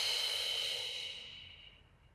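An instructor breathes out slowly and audibly during a beginner Pilates core workout, a single soft, airy exhale that fades over about two seconds.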